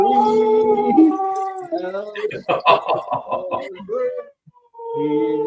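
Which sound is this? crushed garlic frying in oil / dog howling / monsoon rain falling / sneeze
dog howling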